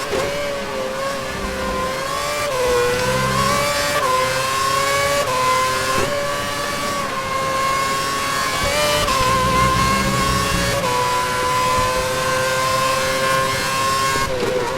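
Race car engine in the Formula 1 2011 game at Catalunya, a loud, close, high-pitched whine held near full revs with brief dips and climbs at each gear change, running continuously throughout.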